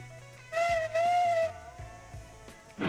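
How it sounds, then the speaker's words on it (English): Steam locomotive whistle in the Railroads Online train game, sounding in two clear blasts, the second longer and wavering, over a low idling engine hum with a hiss at the end. "Whistle, so we can get on going."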